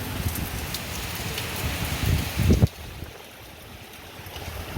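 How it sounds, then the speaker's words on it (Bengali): Heavy rain pours outside an open window in a dense hiss, with a brief louder thudding burst before the sound drops to a softer steady patter. "তুমুল বৃষ্টি হচ্ছে দেখো তুমুল বৃষ্টি হচ্ছে"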